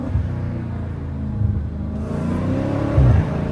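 Dodge Challenger Scat Pack 392 V8 heard from inside at night during downshifts: a loud, deep, continuous engine rumble that swells briefly as revs rise, with no voices.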